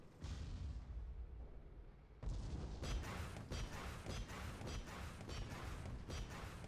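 Big gun firing in a video game: a rapid series of loud booming blasts, one roughly every half second after a short break, close and sharp, with no talking.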